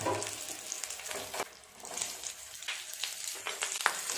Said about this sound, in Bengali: পাতুরিগুলো এবার এক এক করে ভেজে নেওয়ার পালা।